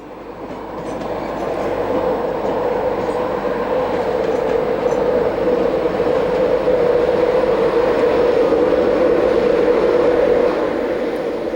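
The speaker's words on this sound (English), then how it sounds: "The Class 91s usually push their trains into King's Cross, as seen here." A Class 91 electric locomotive pushes an LNER train into King's Cross, giving a loud, steady rolling rumble and hum with faint rhythmic wheel clatter that fades up and holds throughout.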